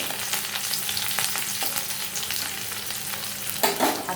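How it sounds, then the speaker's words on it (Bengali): Onions frying with panch phoron in a pan for an okra dish, a steady close sizzle with stirring scrapes and a louder burst of crackle near the end, no voices. "তাই এবার এটাকে একটু ভাজা ভাজা করে নেব"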